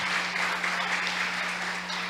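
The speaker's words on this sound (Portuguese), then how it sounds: "Vamos aplaudir o Senhor mais uma vez, em nome de Jesus" A church congregation applauds in a brief, even burst of many hands clapping, heard somewhat faintly over a steady electrical hum.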